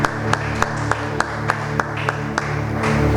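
Congregation applause at a Friday night church service, a steady wash of claps with sharper individual claps standing out at a regular beat over a sustained musical drone, continuous throughout.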